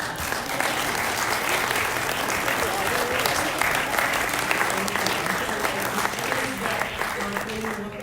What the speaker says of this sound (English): Jill and Anne will have a thunderous round of applause.